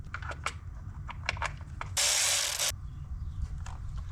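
Ratchet tightening a valve cover bolt on a Mazda CX-5 engine, heard as a run of sharp clicks followed by a dense, steady burst of ratcheting lasting under a second, close by with no talk.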